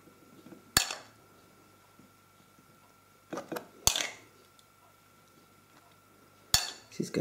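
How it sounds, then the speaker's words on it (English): Chopped tomato spooned onto bruschetta in a kitchen: a few sharp clinks of a metal spoon against a plate or bowl, spaced several seconds apart, close and fairly quiet, with soft handling noise in between. "And then your tomato, just spoon that on top."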